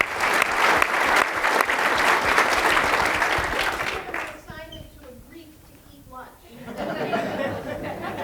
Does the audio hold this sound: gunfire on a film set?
no